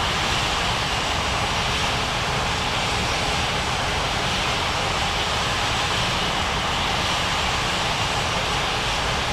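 An Alitalia airliner taxiing toward the gates at an airport in an air traffic control game, its engines giving off a loud, steady whine and roar that holds unbroken throughout, with no voices over it.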